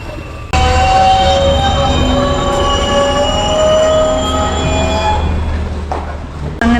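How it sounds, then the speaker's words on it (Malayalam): A train pulls out of Vaniyambalam station on the Nilambur line, its wheels squealing loudly and steadily on the rails with a sustained metallic whine over a low rumble, close by and without talk. "അങ്ങനെ നമ്മുടെ ഈ ട്രെയിൻ വാണിയമ്പലത്തിൽ നിന്ന് എടുത്തേക്കാണ്."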